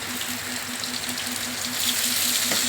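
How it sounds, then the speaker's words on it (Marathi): Onions and tomatoes fry in a pan for a masoor curry, giving a steady, dense sizzle with faint crackles, close and continuous with no talking. "आता आपण टमाटे टाकूयात थोडासा कांदा लालसर झालेला आहे"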